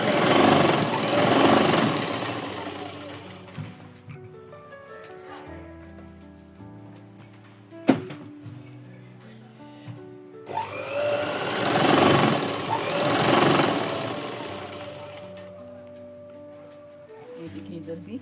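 A sewing machine stitches a shalwar in short, rapid mechanical bursts broken by pauses. Someone speaks at length between and over the runs of stitching.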